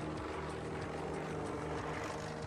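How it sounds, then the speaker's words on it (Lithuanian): A stunt propeller airplane performing aerobatics, its engine drone steady and fairly loud throughout, with no voices over it. "Antai jo valdomas lėktuvas ore visai sustoja."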